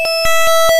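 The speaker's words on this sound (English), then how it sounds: "It sounds like a robot trying to imitate what an EAS alarm would sound like." A Solomon Islands emergency alert system alarm sounds as loud, synthetic electronic tones. A sustained steady pitch is overlaid with rapid rhythmic pulses repeating about every quarter second, close and alone with no voices.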